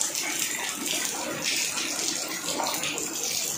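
Heavy rain pours down outdoors during a sudden downpour, a dense, continuous hiss and rush of falling water that stays loud and even throughout, with no talking.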